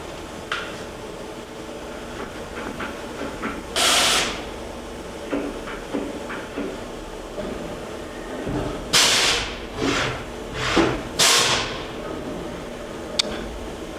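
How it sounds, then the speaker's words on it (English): The automatic tool changer of a Hardinge vertical machining center indexes through its 20 stations, with several sharp hissing pneumatic bursts and clunks over a steady machine hum, mostly clustered together and fairly close. "has a automatic tool changer that's 20 station. Right now it's indexing, simulating a tool change."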